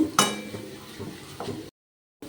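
Spices sizzle and fry in a pan for an egg tarka, with Kashmiri chilli powder and kasuri methi, while a spoon stirs and scrapes against the metal. Brief clinks of cutlery come before the sound cuts out near the end.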